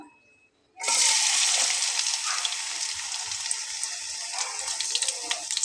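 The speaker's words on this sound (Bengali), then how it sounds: "এখন আমি কড়াইটাতে তেল দিয়ে নিয়েছি, পেঁয়াজ দিব।" Onion slices dropped into hot oil in a kadai burst into a loud, steady sizzle after a brief quiet start, the frying hiss staying close and continuous to the end.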